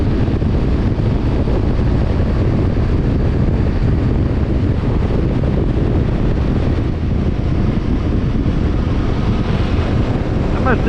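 Royal Enfield Himalayan 450 motorcycle engine cruising at highway speed, around 80 to 85 mph, a steady loud low drone buried in heavy wind rush across the microphone throughout, with no pauses.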